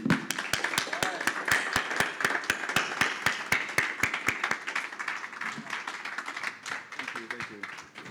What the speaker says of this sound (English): Please rise and join me in a thunderous applause to Mr. Andrew